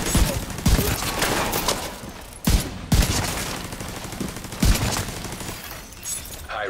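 A turret in The Division 2 fires continuous rapid bursts, a dense, loud stream of automatic gunfire punctuated by several heavier impacts, with no one talking.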